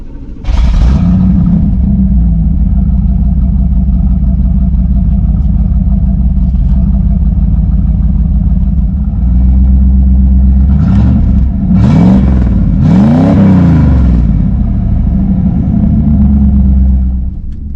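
A 1983 Pontiac Trans Am being driven, its engine rumbling loudly and continuously with a deep idle-like drone, then several sharp revving surges near the end; no talking.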